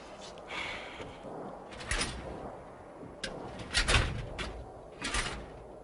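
Gray steel cabinet drawers in a small closet-like room are pulled open in an audio drama, giving several scraping metallic slides and knocks over a steady room tone, with no voices.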